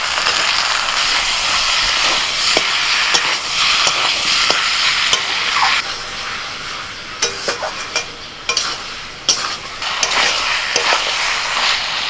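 Marinated chicken with ginger-garlic-green chili paste and tomato sizzles steadily in a pan, a dense close frying hiss broken by scraping stirs and clatters of a spatula.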